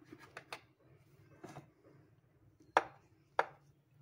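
A knife cuts through a soft, freshly baked homemade cake, giving a few faint soft taps and scrapes followed by two sharper clicks of the blade meeting the plate.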